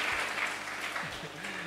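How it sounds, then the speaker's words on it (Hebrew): Applause sound effect, a dense wash of clapping hands heard steadily and fairly loud throughout, with a voice speaking beneath it toward the end. "האפקטים פה גם מפתיעים כמו מחיאות הכפיים."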